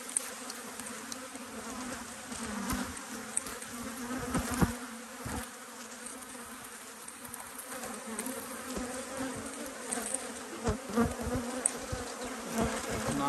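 Dense, steady buzzing of honeybees around apiary hives with no entrance reducers, a continuous close swarm drone with brief louder passes of individual bees, no voices.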